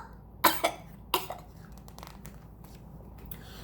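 A small, dry cough comes twice in quick succession, a soft double burst followed by another short cough a moment later, close and clear over quiet room tone with no talking.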